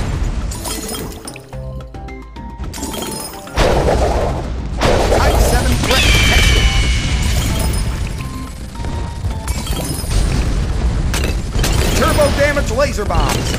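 Laser bomb explosions from Turbo Damage Laser Bombs in BTD6 go off as bursts of crackling, crashing game effects, dense and loud after a quieter start, layered with music and a voice talking over them.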